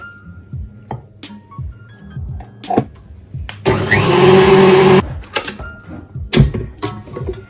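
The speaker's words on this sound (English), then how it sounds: "now I'm going to add the lemon zest into the batter and mix it up" An electric hand mixer whirs steadily for about a second and a half, beating lemon zest into cake batter, framed by quieter clatter and knocks of bowl and utensils before and after.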